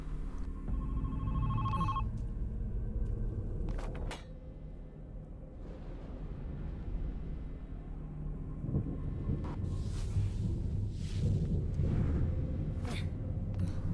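A phone box rings in the video game Dream Cycle, its bell trilling in short bursts over a steady low ambient rumble and game background sound.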